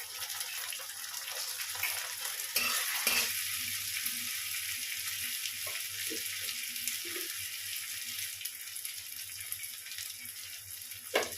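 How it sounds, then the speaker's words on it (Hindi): Ginger, garlic and chili paste fries with jackfruit mince in a pan, giving a steady, soft sizzle with occasional stirring clicks and scrapes, close by with no talking. "इस सबके अच्छी तरह से भून जाने के बाद थोड़ा मैं अदरक लहसुन और मिर्चा का पेस्ट दे रही हूँ"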